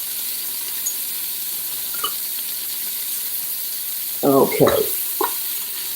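Food sautés in a pan with a constant bright sizzling hiss; a voice speaks briefly near the end.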